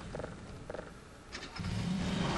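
Car engine in Half-Life 2 sputtering in a couple of short bursts, then catching and settling into a steady, loud low rev as the vehicle tries to pull free.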